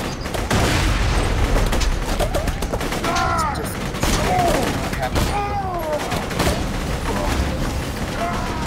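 Gunfire from a sniper rifle in the video game Borderlands: sharp, loud shots amid a busy mix of bursts and impacts, with people talking over the action.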